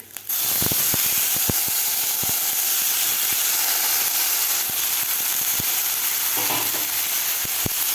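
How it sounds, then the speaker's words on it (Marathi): Cut brinjal fries in a pan with sautéed garlic and chilli, a continuous close sizzle broken by regular sharp clicks of a spatula stirring against the metal. "लसूण अजून मिरची व्यवस्थित परतून झालेली आहे यामध्ये घालायचे आपल्याला कापून घेतलेले वांगे"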